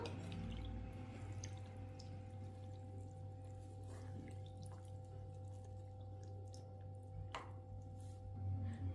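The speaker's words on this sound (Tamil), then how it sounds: "தண்ணி சேர்த்துட்டு கொஞ்சம் கூட கட்டிகள் இல்லாமல் நல்லா மிக்ஸ் பண்ணி விட்டுக்கலாம்" Wet, squishy stirring of a thick rava (semolina) dosa batter with water, soft slopping and dripping sounds, steady and close, with no voices.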